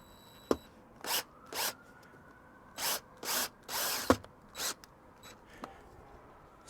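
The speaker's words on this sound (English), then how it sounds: "Right, carry on drilling." A power drill driving screws while an awning rail is fitted to a campervan, heard as several short whirring bursts of about a second each with pauses between, along with a couple of sharp clicks, fairly close and with no talking.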